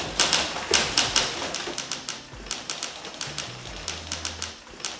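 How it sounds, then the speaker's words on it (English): Typewriter keys strike in rapid, irregular bursts of sharp clacks, loud and close, with some low thumps beneath and no voices. "These are our new state-of-the-art digital typewriters."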